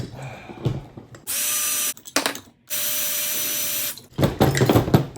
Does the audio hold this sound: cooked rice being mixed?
no